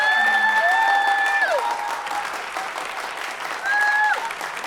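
Bookstore event audience at Barnes & Noble in Manhattan claps in a sustained round of applause, dense and fairly close, with brief whistle-like tones riding over the clapping.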